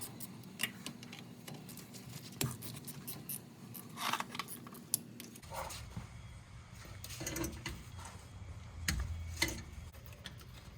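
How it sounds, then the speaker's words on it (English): A swivel ratcheting wrench loosens a bolt on a Nissan S14 differential, giving faint, irregular clicks and ticks that sit amid low rumbling and shop noise in a tight space. "got the swivel ratcheting wrench. Once you break it loose, it kind of makes it a lot easier."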